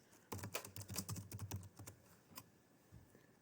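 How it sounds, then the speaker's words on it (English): Typing on a computer keyboard while entering names into two columns of a sheet, a fast run of close, crisp key clicks for about two seconds, then a few scattered single taps. "For here, I'm going to type the names in two columns."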